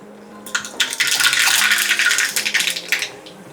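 Mustard seeds crackle and spit in hot oil as a tempering for Gujarati khandvi, a dense burst of sharp pops that swells quickly and then tapers off, close up, with no talking.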